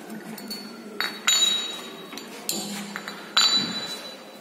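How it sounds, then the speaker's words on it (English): Metal weights are lifted off the load pan of a laboratory wear test machine, giving several sharp, ringing clinks at irregular intervals against a quiet background. "Now remove the load from the pan."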